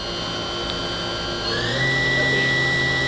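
A YCM vertical machining center with Fanuc drives and a Cat 40 spindle revs up toward 8,000 RPM, a steady machine whine that climbs in pitch and grows louder halfway through, with no talk.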